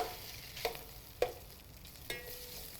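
Potato filling for bread bonda sautéed in a pan, a quiet background sizzle broken by three soft scrapes and knocks of a spatula stirring, close and gentle.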